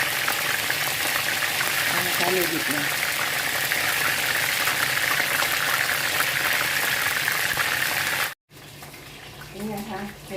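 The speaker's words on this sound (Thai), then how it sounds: "เอามาทอดเห็ดหนังไก่กินเล่นกันนะคะ กระทะทอดเลยค่ะ" Loud, continuous sizzling and crackling of mushrooms frying in a hot pan, with a brief cut and a few spoken words near the end.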